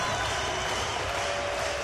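A baseball crowd at a Seattle Mariners game stands cheering and applauding, a steady dense roar of many voices and claps heard from within the stadium.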